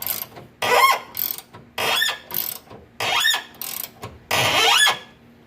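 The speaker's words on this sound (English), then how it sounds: "It's nice to have one of these open-end ratchet wrenches with another wrench on the other side" An open-end ratchet wrench cranks in short bursts of rapid clicking, about six loud close strokes with brief pauses between, each with a rising mechanical whir as a fitting is tightened during a vehicle build.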